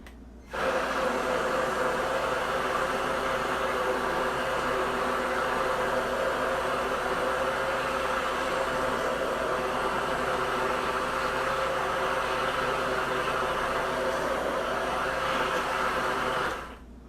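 A blender whirring through natural skin-lightening cream ingredients, a steady loud motor drone that starts abruptly, holds evenly for about sixteen seconds, then cuts off.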